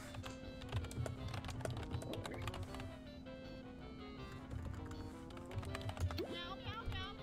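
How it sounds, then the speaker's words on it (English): Rapid clicking keystrokes on a computer keyboard run steadily throughout beneath a constant hum and background game sounds, while people talk over them. "You were typing when I was talking."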